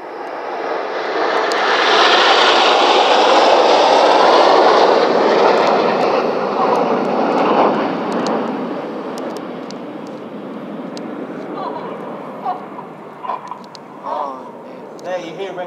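RAF Red Arrows jets fly over during an October 2016 display at Epsom College with smoke on, a loud broad engine roar swelling, peaking, then slowly fading, with voices faintly over it.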